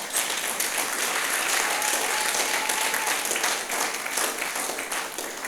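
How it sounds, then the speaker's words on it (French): Church congregation applauding, a dense steady wave of clapping that holds loud and close for several seconds before thinning slightly at the end. "Est-ce qu'on peut acclamer le Seigneur?"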